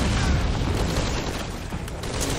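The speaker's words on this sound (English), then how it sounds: "headshot with a grenade launcher" Grenade launcher round exploding in Metal Gear Solid V: Ground Zeroes, a dense, loud blast with a sustained rumbling roar that fills the whole moment without any speech.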